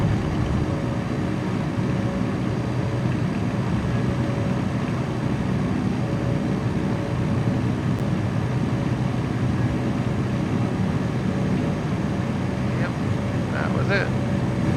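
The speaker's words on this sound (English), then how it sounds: "Let's see if we can get a really full STOL takeoff here." A small STOL airplane takes off with full flaps from a tiny Kentucky field, its engine droning steadily and loudly throughout, with no break in the constant roar.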